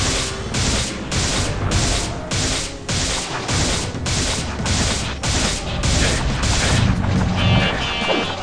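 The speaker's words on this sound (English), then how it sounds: "We'll use the secondary fire for that." Secondary fire from a weapon in the Heretic video game: loud, rapid pulsing blasts that repeat about twice a second in a dense, continuous barrage, with booming crashes throughout.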